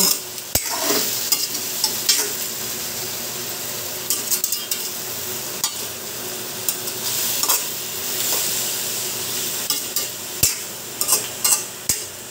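Bakuko fish sizzles and fries steadily in a pan for adobo with potatoes, with occasional scrapes and clinks from stirring against the pan.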